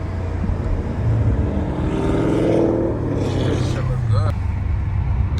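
A Dodge Ram TRX Hellcat truck's engine revs in a short burst, a loud rising roar that swells and fades over a few seconds, with people talking over it.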